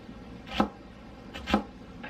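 Two crisp knife chops on a cutting board, a second apart, as food is sliced thin; close and fairly quiet with no talking, in a home kitchen while onions, bread and mustard are out for sandwiches.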